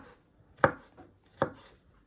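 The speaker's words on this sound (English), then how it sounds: "Then you just want to slice it the other way." A knife slices through beef on a chopping board while preparing beef and black pepper with noodles, giving two crisp, close cuts about three-quarters of a second apart with quiet in between.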